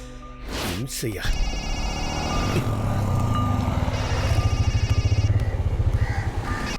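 A phone rings with steady repeating trills over background chatter and street noise, the ringing fairly prominent throughout.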